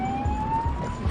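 A police siren from an unmarked police car wails with a slowly rising tone over the close rumble of the moving car's engine.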